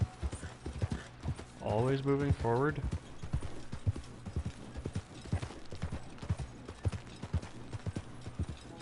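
Horse hooves clip-clop in a steady rhythmic trot in the Red Dead Redemption 2 video game, with a brief whinny partway through, while someone talks over the hoofbeats.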